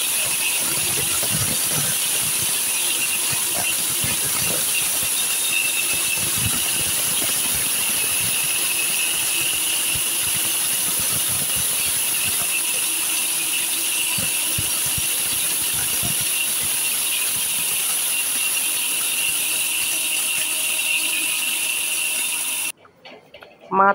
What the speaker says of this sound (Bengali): এখন ব্লেন্ডার করে নেব